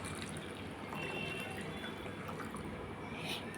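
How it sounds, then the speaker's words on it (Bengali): Room-temperature water is poured into a bowl of ingredients, giving a steady, soft splashing trickle that runs evenly throughout at close range, with no voices. "নর্মাল যে জলটা সেটাই এর ভেতরে ঢেলে দেবো"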